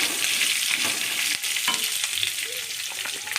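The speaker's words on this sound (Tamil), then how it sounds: "இது மட்டும் வதங்க தம்பி ஒரு நிமிஷம் வதங்கிட்டு ரெண்டு நிமிஷம் வதங்கிட்டு" Capsicum and onions sauté in a hot pan for capsicum thuvaiyal, a loud steady sizzle with occasional stirring scrapes close by.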